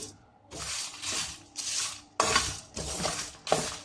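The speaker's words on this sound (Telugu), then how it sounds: "హై ఫ్లేమ్ మీదనే వేయించుకోండి." Chicken kabsa ingredients fry over high flame, with bursts of scraping and stirring in the pan every half second or so, alone and fairly close.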